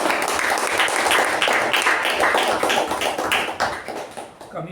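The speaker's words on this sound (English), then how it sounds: "Let's give all the four a wonderful round of applause." Round of applause at a Toastmasters meeting: a modest group clapping in fairly distinct, close hand claps that taper off toward the end.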